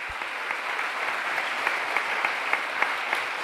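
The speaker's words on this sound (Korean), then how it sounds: "신임 공동회장님을 뜨거운 박수로 맞이하겠습니다" Audience applause at a formal gathering welcoming a new co-chairman, steady sustained clapping from a crowd heard at moderate distance, with no voices over it.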